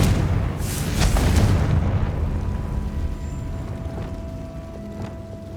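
A Confringo blasting spell explodes in Hogwarts Legacy, a heavy booming burst that swells for about two seconds then trails off into a fading rumble with faint ambient tones.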